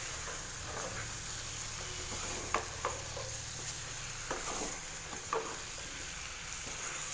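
Chettinad chicken masala fries in a pan with a soft, continuous sizzle while a spoon scrapes and stirs it in occasional light knocks, heard close and quiet.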